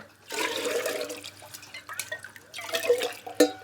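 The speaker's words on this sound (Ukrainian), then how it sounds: "Я набираю воду у чайник." Water runs from a tap into a kettle in a home kitchen, a continuous splashing stream with short breaks and a few small clinks, fairly quiet with no talking.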